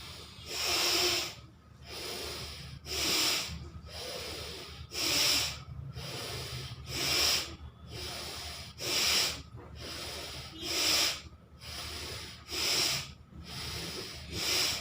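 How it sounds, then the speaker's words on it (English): Quick, forceful breathing exercise for seniors, with about a dozen sharp, hissing inhales and exhales in an even rhythm. The breaths are close and loud, with no talking. "Quick breathe in, quick breathe out."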